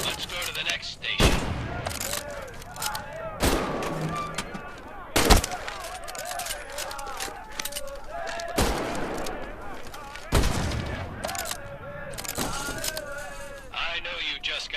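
K98 bolt-action rifle shots in Medal of Honor Above and Beyond VR, a series of sharp, widely spaced cracks, each followed by a pause for the bolt to cycle, over a busy background of speech and ambient clatter.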